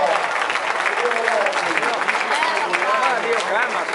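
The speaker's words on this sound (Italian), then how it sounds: "Un applauso." Crowd applause at a boxing bout in San Giovanni Lupatoto, thick continuous clapping with excited voices and shouts mixed through it.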